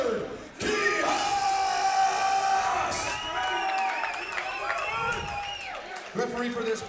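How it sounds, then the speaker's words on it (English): Crowd at a Michigan MMA fight night screaming and cheering loudly and continuously, with shouts and whoops rising over a steady roar and an announcer's voice carrying through. "Let me hear you scream now for Richard Quijas!"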